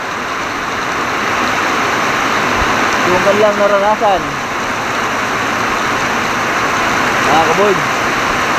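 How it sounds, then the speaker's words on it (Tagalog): Heavy rain pouring down over a banana plantation, a loud steady roaring wash throughout with a person speaking briefly over it. "nakatikim na siya ng matinding ulan"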